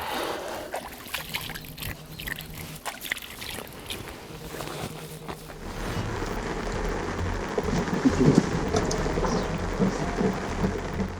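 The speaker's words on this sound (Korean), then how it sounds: "빗소리만 가득하던 그 시간에" Steady rain falls at a fishing spot in the deep pre-dawn hours, a continuous wash of drops and patter with low rumbling beneath, growing denser and louder in the second half.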